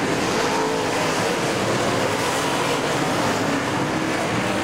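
Dirt track race cars circling a track at a summer nationals event, a dense continuous engine roar at steady high revs, loud and sustained with no break, no voices audible.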